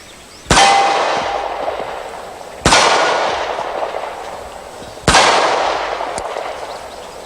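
Three separate pistol shots strike steel plates set about 25 yards away, each a sharp crack followed by a long, bright metallic ring that slowly decays, evenly spaced about two and a half seconds apart, with no talking.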